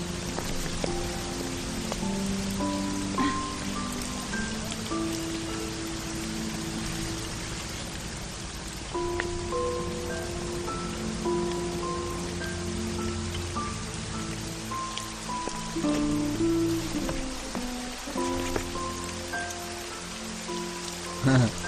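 Rain falls steadily and densely on surfaces, a continuous hiss with pattering drops that lasts throughout, and soft melodic music plays faintly underneath.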